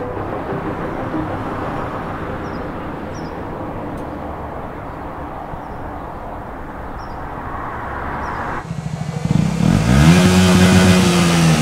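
Black Panther motorcycle engine rumbling steadily up close, then surging louder into a revving roar near the end.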